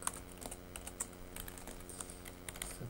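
Computer keyboard typing while writing webpage code, a steady run of quick, light key clicks with no one talking.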